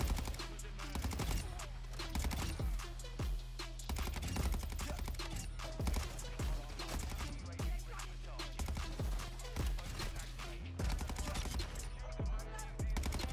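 Battle rifle fire in the video game Modern Warfare 2 rings out in rapid, dense bursts of loud shots and echoing blasts, continuous over a busy game soundscape.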